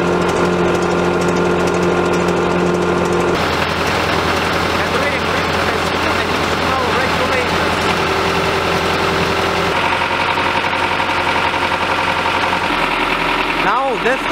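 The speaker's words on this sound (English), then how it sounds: "Right now you can observe the wet drilling of" A drilling rig engine runs steadily at close range during wet drilling, a loud droning rumble with mechanical knocking, shifting pitch a few times.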